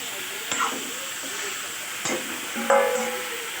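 Chicken stew in a pot is stirred after pepper is added, with soft scraping knocks of a spoon at a few moments over a faint background hiss of cooking.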